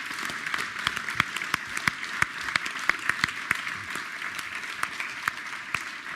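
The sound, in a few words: audience applause for the YouTube panel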